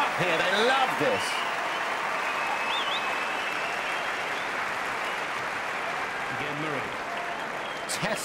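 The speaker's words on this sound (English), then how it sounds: "Crowd are up here, they love this." A Wimbledon 2013 quarter-final tennis crowd applauds, a dense, sustained clapping that holds at a steady level for several seconds, with commentators' voices faintly audible near the start and end.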